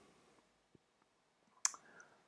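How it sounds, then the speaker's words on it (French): A single crisp mouse click on the plus button in Adobe Spark, close and sharp, preceded by a few faint tiny ticks in an otherwise quiet room. "je clique sur le plus et j'arrive à nouveau à cette diapo"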